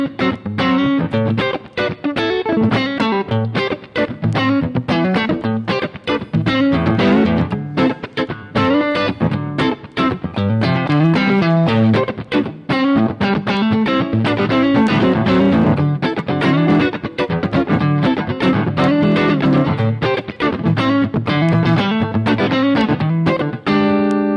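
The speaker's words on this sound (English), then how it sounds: "Chewy front pickup sound." An electric guitar on its front pickup with a little gain plays a busy riff with a warm, thick, chewy tone, loud and continuous without any voices.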